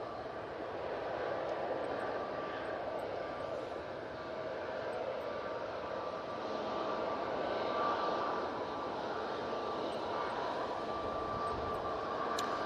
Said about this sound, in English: Really good landing considering the treatment they were getting from the wind.